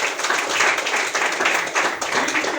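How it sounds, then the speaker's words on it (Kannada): An audience in a business opportunity meeting applauds a guest named Shivashankar, a loud, dense patter of many hands clapping steadily for a couple of seconds. "ಶಿವಶಂಕರ್ ಸರ್ಗೆ ಜೋರಾದ ಚಪ್ಪಾಳೆ ಕೊಡಲಿಕ್ಕೆ"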